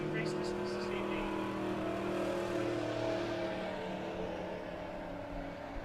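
Bomber-class race cars at Monett Motor Speedway rumble as they head out, several engines droning together at moderate distance, while a public-address announcer talks over the noise.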